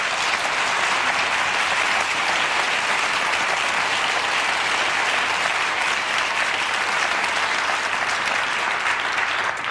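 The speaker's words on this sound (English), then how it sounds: "And everyone's applauding because we're glad you did." Dense, sustained applause from a large audience at a talk-show taping, loud and even throughout with no pauses or voices on top.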